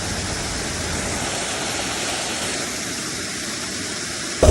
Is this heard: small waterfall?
yes